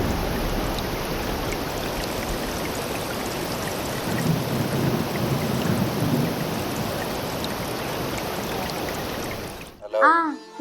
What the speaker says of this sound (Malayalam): മഴയൊക്കെ ഉണ്ട് ഇവിടെ. നല്ല മഴയാ.